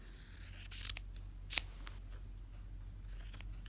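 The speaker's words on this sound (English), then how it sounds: "Trim my corners close without actually going through the threads." Scissors snip fabric at the corners and trim the zipper of a coin purse, producing a few faint, quiet cuts with one sharper snip, over a low steady background hum.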